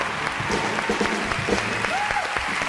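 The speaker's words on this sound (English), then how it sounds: "Let's give a round of applause to the 6 dedicated eco and humanitarian organizations." Audience applause at a stage event honoring eco and humanitarian organizations, a steady wash of clapping held at an even level throughout, with a faint voice briefly showing through the crowd noise.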